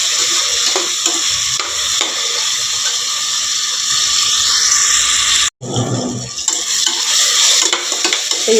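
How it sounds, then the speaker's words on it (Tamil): Tomatoes sautéing in a pan for sambar rice: a loud, continuous close sizzle with scraping stirring, a brief sudden silence midway, then the sizzle and stirring resume. "இனி இது கூட தக்காளி போடுறேன். தக்காளி கொஞ்சம் வதங்கி வரட்டும்."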